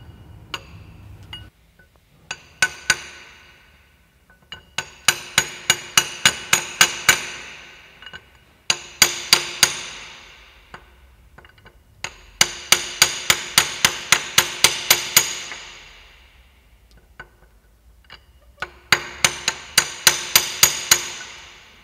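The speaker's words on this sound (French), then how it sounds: "pour venir enfoncer les pastilles, j'ai pris une tige filetée de 20 pour que ça soit le plus large possible" Core plugs being driven into an engine block with a 20 mm threaded rod used as a drift, heard as loud bursts of rapid metallic hammer blows in several separated groups, with no talking.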